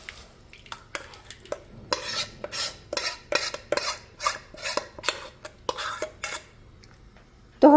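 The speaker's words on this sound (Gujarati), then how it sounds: "આને આપણે કન્ટિન્યુઅસલી ચલાવતા રહેવાનું છે" A spatula scrapes and stirs a semolina and milk mixture in a metal kadai over a gas flame, a run of quick rhythmic scraping strokes that grow busier in the middle, with no talking.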